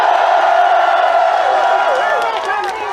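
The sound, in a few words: rally crowd shouting and cheering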